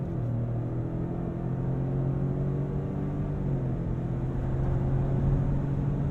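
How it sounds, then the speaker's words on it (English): A 2021 Lincoln Navigator Black Label accelerates, heard from inside the cabin as a steady low engine drone with a tone that rises and then settles, under a constant road rumble. "And here comes the power."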